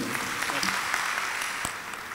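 A crowd applauds steadily for a couple of seconds, a dense patter of clapping at moderate volume.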